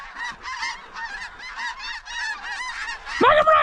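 Specklebelly geese honk during a waterfowl hunt, a rapid chorus of repeated calls from a flock at moderate distance, growing louder and nearer at the end.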